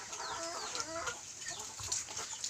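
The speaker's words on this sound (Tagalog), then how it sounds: "At doon yung manok." Chickens cluck softly close by, a few short warbling calls over quiet outdoor background noise.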